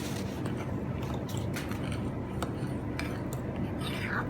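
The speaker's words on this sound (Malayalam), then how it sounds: "ഈ ഓയിലും നമ്മുടെ കൂട്ടിലേക്ക് ചേർക്കാം. എന്നിട്ട് ഒന്നുകൂടെ നല്ലോണം മിക്സ് ചെയ്ത് കൊടുക്കണം." Plum cake batter with oil added is mixed in a bowl with a utensil, giving close, steady scraping and clinking against the bowl through the whole stretch, with no talking.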